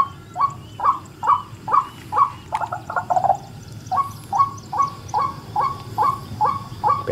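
Repeated hollow, gulping calls of a white-breasted waterhen in a steady series, fairly close, over a low murmur of night background noise.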